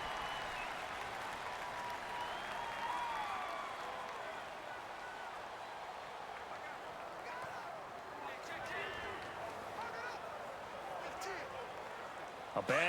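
Home crowd roaring at an NFL game between the Arizona Cardinals and Chicago Bears, a constant loud stadium din that swells in places, with a commentator talking over it.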